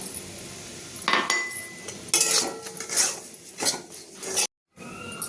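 Semolina stirred in ghee in a metal pan, bursts of spoon scraping and clinking against the pan at close range, fairly loud and irregular, with a brief dead silence near the end.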